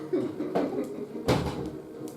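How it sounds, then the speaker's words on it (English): A door or cupboard opens and shuts indoors with two brief, fairly close wooden knocks and clunks a little under a second apart, with no one talking. "apart from a door"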